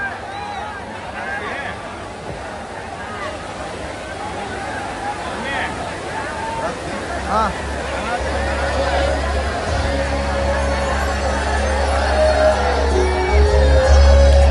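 A crowd cheers and whoops at a promotion event in Dharwad for the Kannada film Cult, a dense roar of voices and yells that swells louder toward the end.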